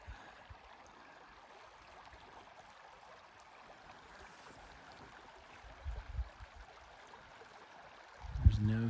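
A creek flowing outdoors as a faint, steady wash of running water in an otherwise quiet place, with a few soft bumps partway through and a louder handling thump at the end.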